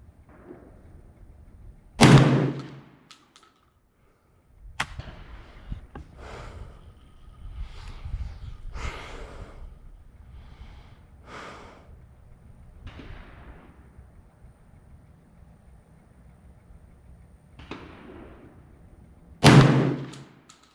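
Two loud, sharp shotgun blasts from a Black Aces Pro Series FD12 bullpup shotgun, one near the start and one near the end, with quieter handling clatter and faint outdoor sounds between them.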